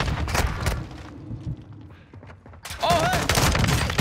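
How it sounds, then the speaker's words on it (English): Shotgun blasts from a new shotgun in a Rebirth 2.0 (Ashika Island) battle royale match, loud booming shots and gunfire clustered at the start and again near the end, with a quieter gap between and faint voices in the background. "He's got the new shotgun."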